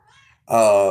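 A cat meows once, loud, close and drawn out, after a brief quieter sound from the same source.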